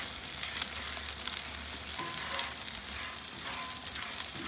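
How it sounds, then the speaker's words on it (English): A Pit Boss griddle sizzles steadily as a silicone spatula scrapes and cleans its hot surface after smash burgers, a continuous frying hiss with faint scraping strokes and no talking. "I'm just going to show you how easy it is to clean. And this is with a rubber spatula too, the silicone spatula."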